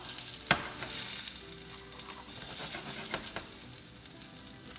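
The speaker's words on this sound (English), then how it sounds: "I'm gonna throw in my tomatoes. let it saute as well." Tomatoes saute in a hot pan with a soft, steady sizzle, broken by a few sharp clicks and scrapes of stirring.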